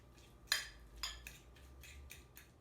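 Egg filling being mixed with black pepper and milk for a Japanese egg sandwich: soft, quiet clinks and scrapes of a utensil against a bowl, a few distinct taps at a gentle rhythm.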